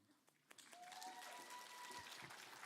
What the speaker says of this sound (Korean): 박수 한번 부탁합니다.